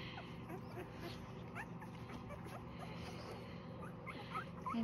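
Newborn puppies whimper while nursing, giving faint, high squeaks and yips scattered throughout, with a person talking nearby.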